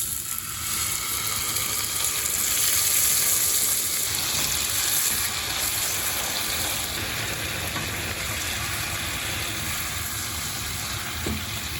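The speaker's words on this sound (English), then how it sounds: "Now my pork chops have been in the pan for about, well, 5 minutes." Pork chops frying in a pan, a steady even sizzle with a constant hiss running unbroken throughout, moderately loud and close with no voices.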